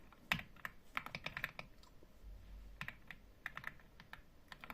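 Someone types on a computer keyboard while coding, quick clusters of soft key clicks with brief pauses between bursts, close but quiet, with no speech over it.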